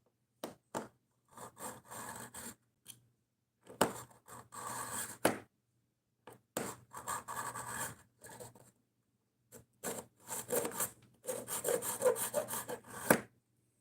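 A knife pulled repeatedly through a carbide pull-through sharpener: bursts of harsh, gritty scraping strokes, some quick and some longer, close and fairly quiet, separated by short silences, with no speech.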